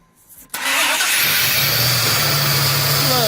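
After a quiet moment, a Dodge T-Rex 6x6 engine cranks and fires suddenly, then settles into a loud, steady running rumble close by, with faint voices underneath.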